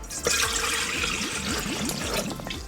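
Two and a half cups of warm water pour steadily into bread-dough flour with a bubbling, gurgling rush, close by and continuous for a few seconds.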